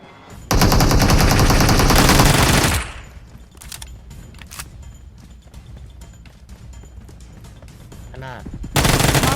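Automatic gunfire in PUBG Mobile on the Sanhok map, a loud sustained burst followed by scattered single shots and quieter distant fire, then another loud burst at the end.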